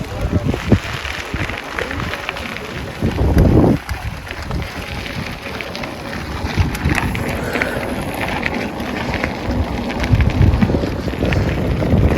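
Steady wind rushes and buffets against the microphone throughout, loud and close, with gusts swelling now and then and no talking, during a bicycle ride near a canal in Italy.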